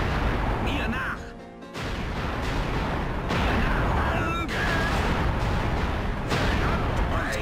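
Cannon towers fire in the Anno 1602 strategy game, a dense run of booming, crackling blasts and pops that fills the whole stretch and briefly drops out near the start.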